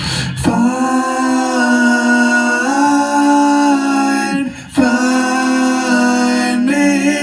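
Layered vocal harmony tracks play back with nothing else, blending into sustained sung notes that shift pitch a few times, with brief breaks between phrases.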